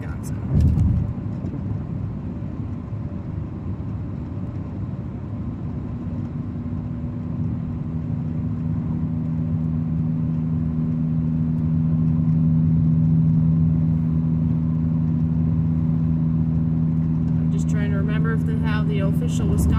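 Steady low rumble of a car cruising on a highway from Minnesota into Wisconsin, heard from inside the cabin, with constant engine drone and road roar throughout and a brief burst of higher noise near the end.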